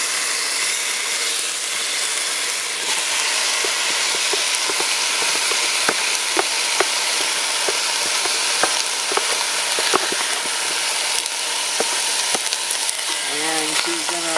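Brown sugar sizzles and crackles steadily in a pot while cooking down for coconut beef, a loud continuous fry with scattered sharp pops and a brief stirring scrape near the end.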